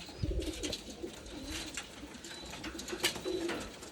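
High flyer pigeons cooing: a series of soft, low coos repeat close by against quiet background noise, with no talking.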